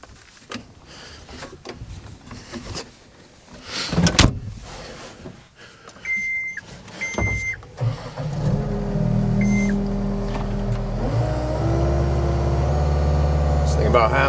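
A John Deere 325G compact track loader at about half throttle pulls a cattle guard out with a chain, its diesel engine rising into a loud steady drone after clanks and thumps, with people talking over it.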